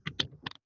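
Brief burst of typing on a computer keyboard: a few quick, close, quiet key clicks in two small clusters, then silence.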